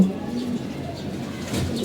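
Pigeons kept in a dimly lit coop coo softly and steadily, a low murmuring hum that continues throughout with a faint airy background.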